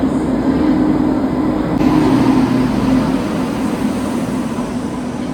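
A train arriving at platform 2 of a railway station on a Kalaburagi to Bengaluru journey, producing a steady loud rumble and hum that eases slightly toward the end, with no talk.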